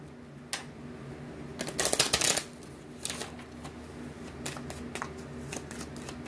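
Tarot cards being shuffled and handled close by during a reading, a soft steady riffling with a louder burst of quick flicks midway and scattered light taps afterward, no voices.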